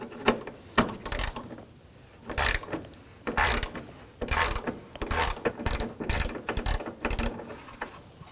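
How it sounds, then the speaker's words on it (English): Bursts of ratchet clicking from a socket wrench fitted with a 10mm socket, backing out screws while removing the AC condenser and receiver drier on a 2005-2009 Subaru Legacy; repeated short runs of clicks with pauses between them. "We're just finding that a 10mm socket will work just fine."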